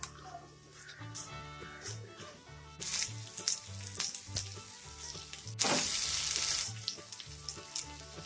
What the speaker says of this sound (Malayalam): നമുക്ക് സവാളയുടെ കളർ ചെറുതായിട്ടൊന്ന് മാറി വരുന്ന വരെ നമുക്കൊന്ന് വഴറ്റിയെടുക്കാം.